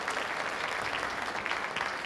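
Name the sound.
audience applause for the concert video crew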